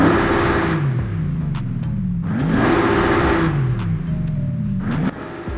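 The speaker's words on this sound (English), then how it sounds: "we might as well go and listen to the exhaust note to see if there's difference" A 2021 Bentley Flying Spur in Forza Horizon 5 revs repeatedly, the engine climbing and dropping in three distinct rising sweeps with brief gear-like breaks, loud and close, no voices.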